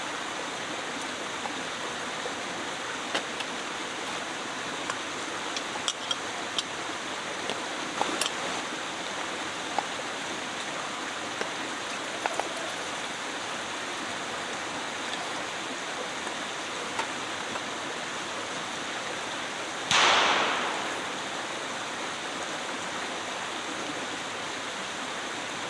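A river flows steadily beside a forest campsite, a continuous broadband rush of water holding at an even level throughout, with a few faint clicks and one brief louder burst near the end.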